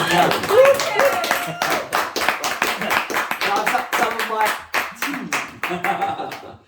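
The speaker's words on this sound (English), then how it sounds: "Can we have a round of applause?" A small audience claps at the end of a DJ interview's formal questions, giving a lively round of separate, fairly close claps with voices talking over them.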